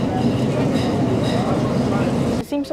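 Tyne and Wear Metro train pulling out of Monument station, a steady loud rumble and hum of the carriage in motion, with a brief change in the noise near the end.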